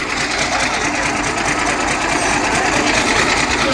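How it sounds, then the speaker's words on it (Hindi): A homemade tractor built around a truck engine runs close by with a steady, rapid mechanical chatter, a continuous buzzing engine note that holds even throughout. "ये देखा भाई, भाई ट्रक का इंजन है"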